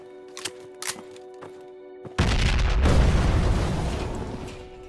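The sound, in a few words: C4 explosion of a cache in video game Project Reality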